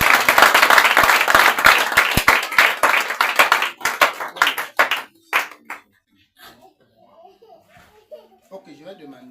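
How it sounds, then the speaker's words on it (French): A church congregation at a deliverance and healing service bursts into loud, dense clapping and applause, which thins into scattered claps after a few seconds and leaves faint murmuring voices. "Acclamons plus fort."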